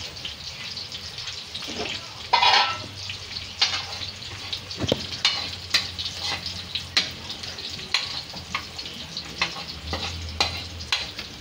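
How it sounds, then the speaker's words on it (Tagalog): Onion and garlic with hotdog and red chili sautéing in a pan for homemade menudo, a steady sizzle with intermittent stirring clatter up close, a voice talking briefly in between. "Medyo lutuin muna natin ng konti itong sibuyas saka yung bawang para mas mabango"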